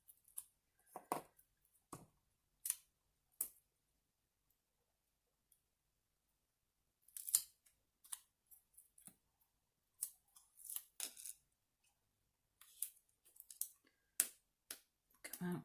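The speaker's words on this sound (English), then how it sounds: "I'm going to have to trim down some of this tape." Scissors snip through tape on an art journal page, a series of quiet, close, crisp cuts coming in short bursts with silent gaps between them.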